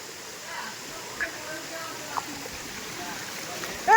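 A waterfall and stream at Chakratirtha in Keonjhar, Odisha, rush with a steady, dense roar of water. A few faint short splashes stand out over the constant wash.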